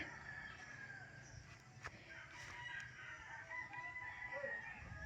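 A chicken, newly hatched out in the grass, clucks faintly and intermittently in an outdoor farm setting, with soft ambient noise around it.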